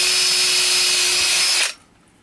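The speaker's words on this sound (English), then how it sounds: "we just drill a couple of holes for our screws" A power drill whines steadily at high speed, loud and close, drilling screw holes into wood, then cuts off abruptly near the end, leaving faint room noise.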